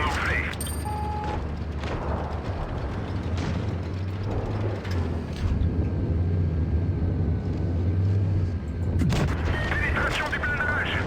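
Heavy tank cannon shots boom out in a World of Tanks Blitz battle, a couple of blasts standing out over a steady engine rumble while someone talks throughout.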